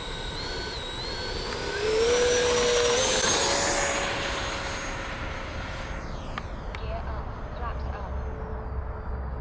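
A Freewing L-39 80mm electric ducted-fan RC jet flying at half throttle, its whine swelling loudly as it passes near, then fading to a distant drone over outdoor wind noise.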